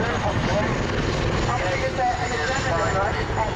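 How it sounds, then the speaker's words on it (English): Steady, loud rotor and engine roar of a Chinook helicopter launching, constant throughout with a broad rumbling wash and no breaks. "the Chinook is launched with the Apache attack helicopter in close support"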